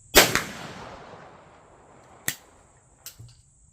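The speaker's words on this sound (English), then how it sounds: "So send 2 or 3 more down, same aim point" A .410 shotgun, a Sterling BPS, fires a slug with a sharp loud crack that trails off in a long echo, followed by two fainter, distant-sounding reports, outdoors with no speech.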